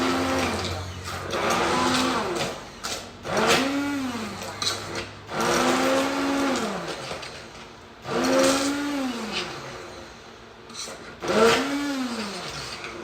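A blender purées cooked asparagus for cream of asparagus soup in a home kitchen, its motor whirring loudly and close in repeated bursts that rise and fall in pitch, with no talking.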